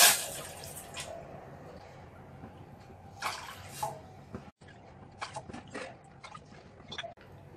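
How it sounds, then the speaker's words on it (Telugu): Water is poured into a cooking pot on a lit stove while making jaggery Bellam Taalikalu, a soft splashing and trickling that rises in a few close bursts over steady background noise. "4 కప్పుల వాటర్ వేసుకుందాం."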